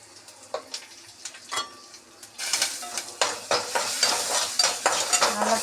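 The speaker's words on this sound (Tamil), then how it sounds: "கொஞ்சம் கடுகு, ஜீரகம், கொஞ்சம் உளுத்தம்பருப்பு, ஒரு காஞ்ச மிளகா, கொஞ்சம் பெருங்காயம்" Mustard seeds, cumin, urad dal, a dried red chilli and asafoetida drop into hot oil for a tempering. A few sharp spoon-and-pan clinks come first, then a sudden loud, crackling sizzle with steady stirring and scraping.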